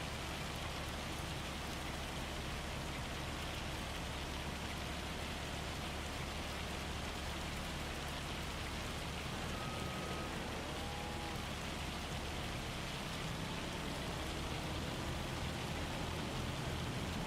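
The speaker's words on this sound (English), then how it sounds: "That's rain." Steady rain in Farming Simulator hisses evenly throughout, a dense, continuous wash of drops with a low rumble beneath and no voices.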